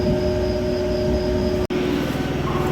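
Steady rumble of a passenger train in motion, heard from inside a carriage, with continuous low rail and wheel noise and a brief dropout partway through; no talking.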